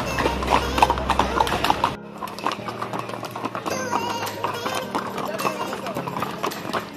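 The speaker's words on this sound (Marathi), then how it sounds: "घाबरलो ना, घोडे त्यांनी पळवत नेले." Horse hooves clip-clop quickly and loudly on a trail at Matheran hill station as horses are led away at a run, the rapid rhythmic beats continuing under excited talk.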